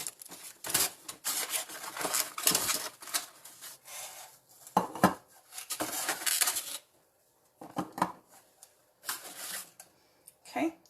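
Eggs set one after another into an egg holder on a kitchen counter, giving light irregular clicks and knocks in short bursts with pauses between them.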